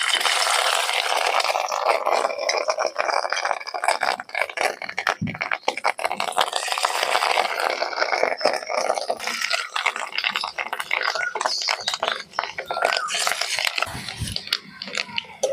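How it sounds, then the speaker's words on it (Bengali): Fish roe fritters fry in hot white oil in a pan, giving a loud, steady crackling sizzle with sharp pops and spatters throughout. "তেল গরম হয়ে গেছে, অল্প অল্প করে মাছের ডিম দিয়ে বড়াগুলোকে ভেজে নিচ্ছি।"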